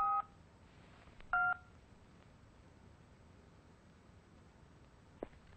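Telephone keypad dialing tones come as two short, faint beeps a second apart in a quiet room, followed later by a soft click.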